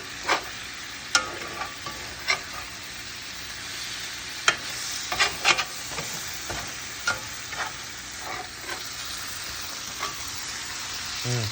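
Pork and mixed peppers sizzle steadily in a pan over medium heat, with a spatula scraping and clacking now and then as the spices are stirred through.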